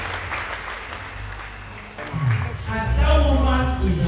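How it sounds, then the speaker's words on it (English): Worshippers at a church service in Cameroon clap for Jesus Christ, a broad wash of applause for a couple of seconds before a voice and music rise over it and fill the rest. "Clap for Jesus Christ."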